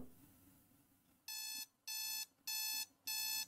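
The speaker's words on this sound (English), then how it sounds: "Oh, that was my alarm clock." An alarm clock in the video game The Closing Shift sounds four even, loud electronic beep bursts in quick succession after a quiet moment.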